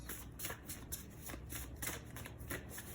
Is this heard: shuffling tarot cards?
yes